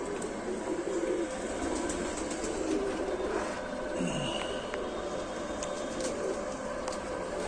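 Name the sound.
Lal Sira pigeons cooing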